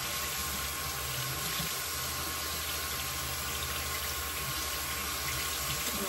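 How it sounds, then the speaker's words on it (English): Water runs steadily from a tap while a beauty blender makeup sponge is washed, a constant broadband rush with no pauses and no talk. "And I'm just washing my beauty blender."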